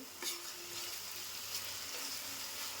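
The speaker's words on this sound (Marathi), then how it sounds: "ते सुद्धा वाटण थोडं 2-3 मिनिटं परतून घेते" Ground masala paste sautéing in hot oil in a pan, a steady soft sizzle with faint stirring scrapes, moderately quiet and close, with no voices.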